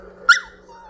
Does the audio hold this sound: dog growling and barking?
yes